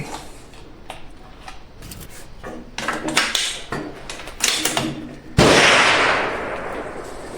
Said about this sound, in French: je vais effectuer les tirs maintenant